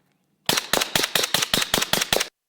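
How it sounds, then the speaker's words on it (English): A suppressed bullpup rifle fires subsonic 300 Blackout in a quick string of about nine evenly spaced, sharp muffled cracks, close and loud, after brief silence. "we're going to do a mag dump. I've got 20 rounds of subsonic 300 Blackout."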